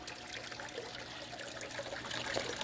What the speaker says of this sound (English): we've got that little bit of trickle coming down